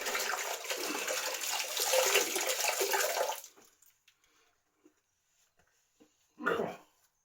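Running tap water rinses a lathered shaving brush for about three seconds, a steady close splashing rush that stops abruptly, followed by quiet with a few small drips and one brief splash.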